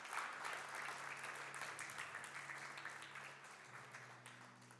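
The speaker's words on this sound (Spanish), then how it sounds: "¿Por qué no le da un fuerte aplauso al Señor?" Church congregation giving the Lord a loud round of applause during a Spanish-language service, dense clapping filling the room and slowly tapering, with a faint sustained organ or keyboard tone underneath.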